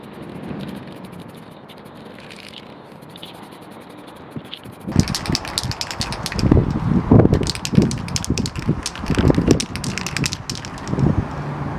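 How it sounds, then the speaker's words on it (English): Strong wind in the UK buffets the microphone in rough, crackling gusts, quieter at first then suddenly louder and choppier for the second half. "It's really windy in this British UK weather."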